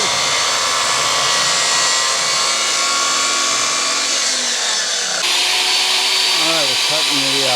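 Power tool cutting a diminished edge housing joint in a heavy timber, a loud continuous whine running the whole time with a shift in pitch partway through as the cut changes.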